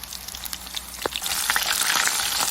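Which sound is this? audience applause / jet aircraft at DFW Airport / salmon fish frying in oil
salmon fish frying in oil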